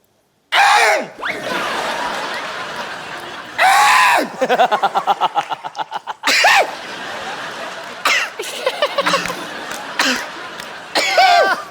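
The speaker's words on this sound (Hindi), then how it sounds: "आप कब तक गला साफ करती रहेंगी?" A woman on a comedy show stage repeatedly clears her throat and coughs in loud, rasping bursts, including a rapid rhythmic series of short hacks, with gasps between them and no clear talk.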